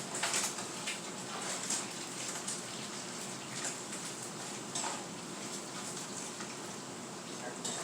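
Bacon frying in a pan while being turned, a steady crackling sizzle running throughout with a few brief scraping clicks, moderately close and even in level.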